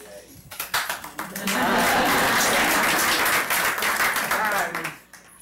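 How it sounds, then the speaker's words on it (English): An audience bursts into applause for a speaker at an alumni weekend talk, dense clapping swelling quickly, holding loud and steady for a few seconds, then fading away. "this gentleman, first of all, needs to be applauded"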